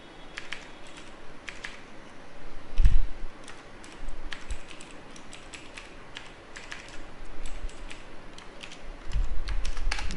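Steady computer keyboard typing of programming code, with irregular key clicks running throughout and a few louder thumps, close and clear with no talking.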